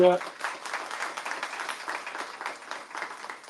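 Conference audience at an international event in Balochistan applauds steadily, a dense wash of many hands clapping at moderate distance for several seconds, a brief voice at the very start.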